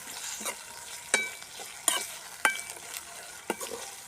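Potato and cabbage filling for cabbage puffs stir-frying in a pan in a village kitchen, a soft continuous sizzle with several sharp scrapes of the spoon at irregular intervals, close but fairly quiet.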